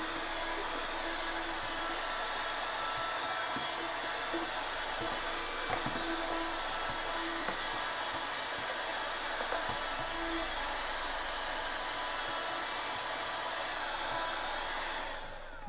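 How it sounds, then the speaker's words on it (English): Vacuum cleaner running steadily while hoovering up ants that scatter from a corner of trash, a constant loud whooshing drone with occasional small clicks and bumps as the nozzle moves. "I can Hoover up all the ants running away from the corner"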